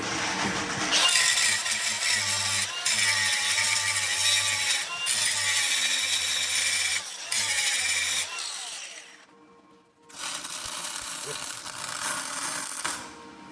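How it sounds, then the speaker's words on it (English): An angle grinder grinding down a thick weld on a pickup truck axle, loud harsh continuous grinding in several long bursts with brief gaps, a near-silent pause, then grinding resumes. "My weld was too thick. The pinion hits it when it goes around, so we're gonna grind it down a bit."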